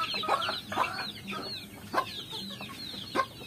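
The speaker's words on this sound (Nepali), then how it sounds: "घाँटी खुइले उल्टे कुखुरा" Naked-neck frizzle chickens on a home poultry farm cluck in short repeated bursts, several birds calling close by with a few sharper squawks, no talk over them.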